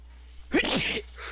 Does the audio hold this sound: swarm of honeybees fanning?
no